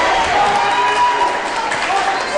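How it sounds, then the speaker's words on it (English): A basketball crowd applauds a senior player on senior night at a high school boys game, a steady wash of clapping and cheering that fills the gym and holds at an even, fairly loud level throughout. "gets a round of applause from the crowd"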